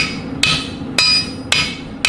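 A hammer strikes hot metal on an anvil while a sword is forged, four sharp, loud ringing blows spaced about half a second apart over a low background hum, with no talking.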